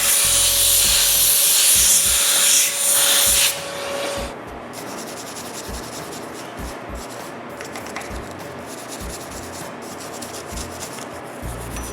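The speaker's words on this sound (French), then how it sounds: "Il a fallu que j'utilise de l'air puis une brosse de laiton pour enlever toute cette crasse de poussière de bois." Compressed air blasts loose sawdust off a table saw in a long, loud, steady hiss, then a brass brush scrubs the grime away with quieter, rhythmic rasping strokes.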